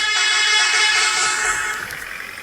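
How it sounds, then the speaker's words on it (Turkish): A bus horn in a video game blares loud and bright continuously for about two seconds with a buzzy electronic tone, then fades slightly; no distinct pair of honks stands out. "Kornayı böyle iki kere ardı ardına bastığımda daha güzel oluyor."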